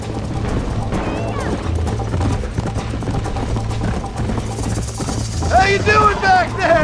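Horse hooves clip-clop steadily in the Western video game Red Dead Redemption, a continuous trotting rhythm close by, with voices talking over it and a livelier stretch near the end.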